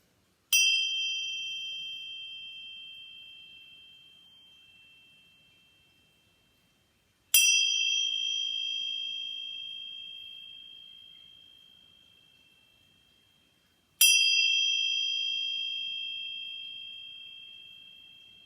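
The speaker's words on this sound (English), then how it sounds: "breathe down deeply into your belly as I chime these 3 times" A meditation chime rings three times at even intervals of about seven seconds, each strike bright and clear with a long, slowly fading ringing tone, alone in an otherwise quiet room.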